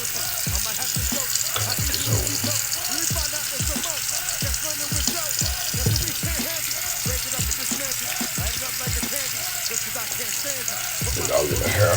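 Water running from a tap while someone wets their hair during a baking soda scalp cleaning, a steady splashing hiss with a person talking intermittently over it.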